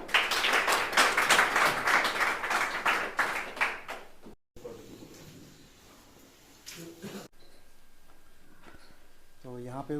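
Loud, quick hand-clapping from an audience at a coaching institute's felicitation ceremony honouring selected teacher candidates, lasting about four seconds, then cutting to quieter room noise with shuffling and a faint voice.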